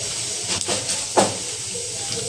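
Cumin seeds sizzle in hot oil in a kadhai for pithla, a constant close hiss broken by a few short, louder spurts of crackle.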